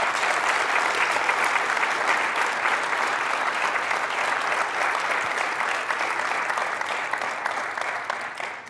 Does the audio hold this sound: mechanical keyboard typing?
no